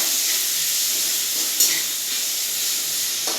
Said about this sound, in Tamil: நல்லா ஒரு பதம் வர வரைக்கும் நல்லா வணக்கிக்கோங்க